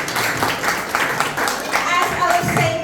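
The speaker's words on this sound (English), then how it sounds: "So for all of you present here, make some a biggest round of applause." Audience applause at a meet-and-greet event with a Bollywood film director in Australia, a burst of close, loud clapping from a crowd that runs throughout, with a voice speaking over it.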